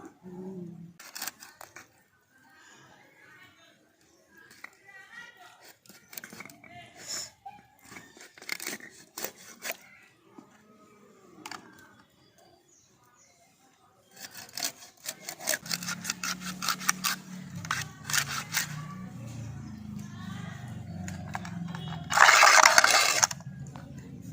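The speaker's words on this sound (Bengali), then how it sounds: "মাছটা আমার কাটা হয়ে গেছে" Fresh rohu fish being cut by hand, with scraping and rubbing strokes and bursts of rasping, crinkling handling noise, close and moderately loud, ending in a louder tearing burst.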